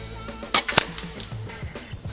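Two sharp reports from a Meta Premium PCP air rifle tuned to 85 joules, fired at targets 100 metres away, close and crisp with short gaps and a quiet outdoor background.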